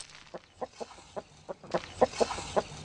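Chickens cluck in a steady series of short, close calls at a forest research station in Russia's Central Forest Reserve, growing busier and louder toward the end, with faint background noise.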